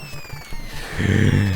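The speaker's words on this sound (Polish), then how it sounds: "tu trzeba te, nie wiem, te granaty czy te bomby wybuchające trzeba omijać szerokim łukiem" Bombs and grenades explode in the Contra video game: light game noises, then a single loud booming burst that swells and holds briefly.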